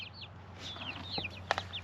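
Chickens cluck and chirp nearby in a quick scattered series, with soft farmyard hum underneath.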